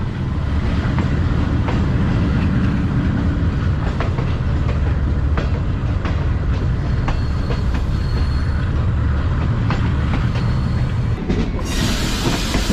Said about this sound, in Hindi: दोस्तों 7:07 पर ट्रेन हमारी जो है वो गुजरांवाला पर अप्रोच बना रही है।